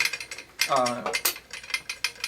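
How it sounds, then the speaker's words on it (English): Metal threads ratchet and click as an adapter is screwed onto a mic stand, a close run of crisp mechanical ticks with a short voiced murmur in the middle. "The trick is to take the hotspot off of the stand before screwing the adapter on."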